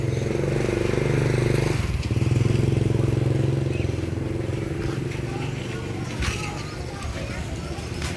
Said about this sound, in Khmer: នេះម៉ូតូកង់កូនសិស្សដែលមករៀនបាទ